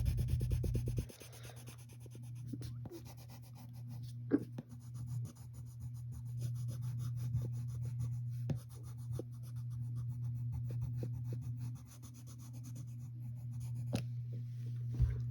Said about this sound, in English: take the side of your pencil and shade in everything else